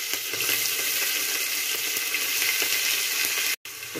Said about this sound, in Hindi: उसके बाद प्याज को डाल रहे हैं